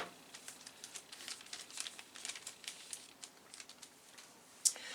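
Plastic packaging around a Hakko soldering iron cleaning sponge is cut open, producing close, faint crinkling and crackling with light taps and one sharp snip near the end.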